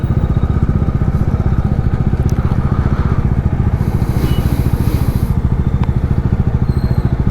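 A motorcycle engine runs steadily and loudly close by, its rapid even firing pulses holding for the whole stretch with a slight clatter, waiting at the start of a ride from Khammam to Neeladri Temple.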